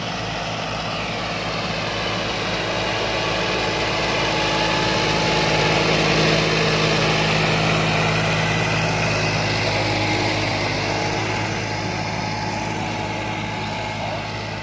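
A Massey Ferguson tractor runs with a three-bottom plough attached, its engine droning steadily and loudly throughout in an open field, swelling slightly mid-way, with no clear talk.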